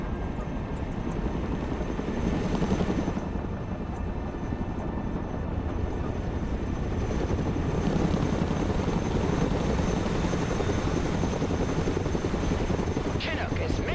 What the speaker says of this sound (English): Chinook is mission ready. Heavy transport here. Nap of the Earth flight.